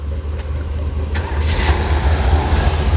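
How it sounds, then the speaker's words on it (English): A Chevy car engine rumbles steadily at idle after being fired up with a couple of gas pedal presses, a continuous low throb that grows slightly louder partway through, close by with no talk. "All I gotta do is get in and hit the gas a couple times and this thing fires right off."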